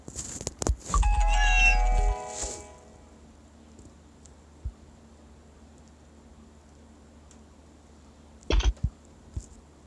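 Cat meowing in a video game: a single clear meow near the start, loud and close, followed by mostly quiet ambience with a few faint clicks and a short burst later on.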